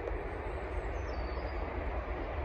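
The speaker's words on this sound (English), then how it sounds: "There's a train. I can hear a train." A train rolls past near a campsite in the New Forest, a continuous loud rumble of wheels on rails with a faint high squeal drifting over it and no one speaking.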